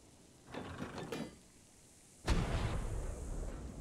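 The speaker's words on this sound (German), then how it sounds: "Komm, mach mal eine rein und dann guck mal, wo der Schuss landen würde." A cannon in the video game ARK gives a short mechanical clatter of loading or aiming, then a sudden heavy boom with a rumbling tail, faint overall and without talk.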